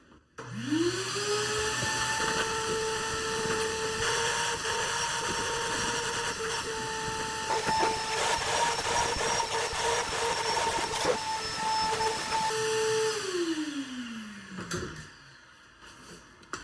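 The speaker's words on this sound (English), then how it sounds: "I'll try to vacuum most of this now." A vacuum cleaner whines steadily at close range, its pitch rising as it starts and falling away as it shuts off near the end.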